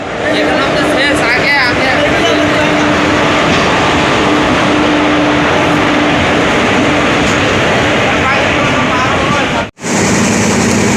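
Inside a crowded moving passenger train with no free seats, a loud, steady rumble of wheels and carriage fills the space while people talk nearby, broken by a brief dropout near the end.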